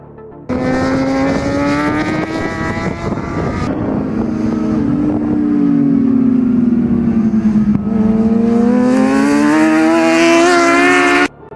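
ZX10 racing motorcycles lapping Red Star Raceway, loud high-revving engines screaming past close by. The pitch rises and falls with gear changes and there is heavy wind buffeting.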